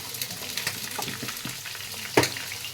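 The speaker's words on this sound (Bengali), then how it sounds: "সব চিকেনগুলোকে আমি একবার ভালো করে নাড়িয়ে দেব," Chicken pieces for chili chicken sizzling in hot oil while being stirred in a pan, a steady crackling fry with soft scraping strokes and one sharper clack near the end, close and fairly loud.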